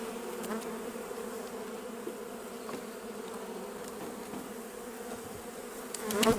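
Honeybees hum in a hive during transfer from a nucleus box into a full hive, a close, steady buzzing drone with faint crackles that swells slightly at the end.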